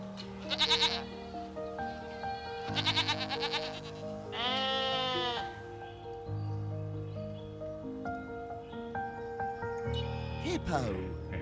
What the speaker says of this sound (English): Goat. It's a goat.